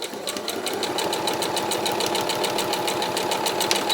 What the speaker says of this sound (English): So I always sew to the pin and stop.